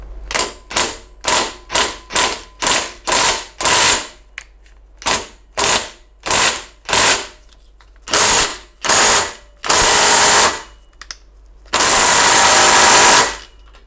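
A smaller impact wrench hammering on the alternator pulley bolt of a VW Caddy 1.9 TDI BLS, loud close bursts of rattling blows in a quick series of short pulls, then two longer sustained runs, no talk.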